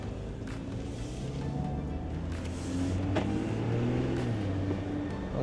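A Porsche Cayenne E-Hybrid Coupe petrol engine idles with a low, steady hum after starting, its pitch rising slightly mid-way, heard from nearby with light background clicks.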